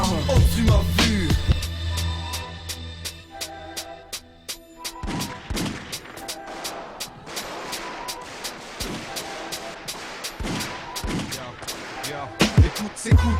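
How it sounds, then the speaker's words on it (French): Gunshot sound effects in a Belgian rap mixtape, sharp cracks fired singly and in rapid bursts over a musical backing, some loud and close, others lighter and spaced irregularly. "Écoute ces coups de feu"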